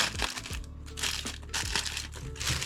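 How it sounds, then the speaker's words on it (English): Plastic bag wrapping a Tamiya 1/24 Toyota GR Supra custom model kit body being pulled and torn open, with continuous close crinkling and crackling in bursts and no talk. "The impenetrable plastic bag."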